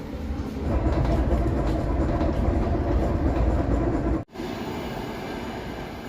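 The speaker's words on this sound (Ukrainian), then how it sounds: "Їдемо електричкою одну-дві станції." Inside an electric commuter train on a short ride of one or two stations: a loud, steady rumble of wheels and carriage noise, with a brief sharp dropout near the end before the rumble resumes.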